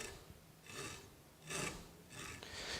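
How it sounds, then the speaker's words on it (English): Knife blade held perpendicular to a corn cob and scraped down it to make corn paste, three soft, close rasping strokes with short pauses between them. "if you take your knife and hold it, once again, perpendicular to the cob and go like that and scrape"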